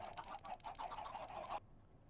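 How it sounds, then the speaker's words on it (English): Chickens in Minecraft cluck in a rapid, steady string of short pulses, then cut off abruptly into silence. "under here is also very noisy, but there's a bunch of chickens"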